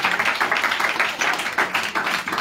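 A small crowd claps and applauds in quick, dense bursts, loud and close, with a few voices faintly mixed in.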